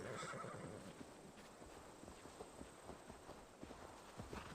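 A horse whinnies loudly at the start in the video game Sam & Max: The Devil's Playhouse, followed by a steady run of clip-clopping hoofbeats that continue to the end, fairly close and without speech.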